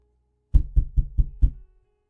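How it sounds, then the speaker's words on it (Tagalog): Five firm, evenly spaced knocks on a door, close and heavy, then silence. "Dahil may kumakatok sa pintuan."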